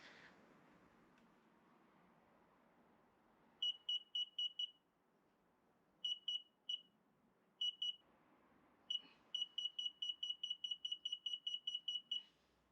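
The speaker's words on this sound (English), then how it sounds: "And it should beep, yeah, which shows that the system's working." Retro-fit parking sensors on a VW T5 van, wired straight to the battery for a test, give sharp high beeps in short bursts, then a rapid steady run of pips, loud and close over quiet background.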